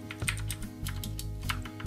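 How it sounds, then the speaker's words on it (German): Tesoro Colada Saint mechanical keyboard with blue switches being typed on, a quick run of sharp clicky keystrokes in an uneven rhythm, close and crisp with no voices. "Dann hören wir uns mal die Tasten genau an."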